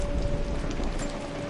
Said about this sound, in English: Oh no, lightning.